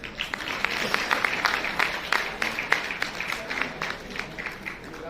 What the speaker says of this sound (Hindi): ताली हो जाए आपके लिए